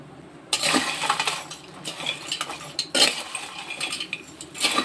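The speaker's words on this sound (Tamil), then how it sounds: "இதை நல்லா வந்து நல்லா கிளறி விட்டுக்கிறோம்" Cassava chips with curry leaves and a pinch of asafoetida being stirred in a pan, with bursts of scraping and clinking of a utensil against metal, loud and close, pausing between rounds of stirring.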